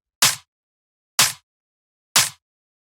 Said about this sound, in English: The next sound we have here is a snare